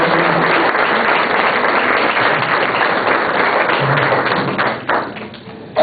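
Audience applause for nine contemplative nuns at a Teresian conversations gathering, a dense steady clapping that fills the room, then thins and fades near the end.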